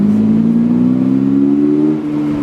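A 2022 Subaru BRZ sports car engine revs up, its pitch climbing steadily and loudly, then dips briefly as the throttle eases near the end.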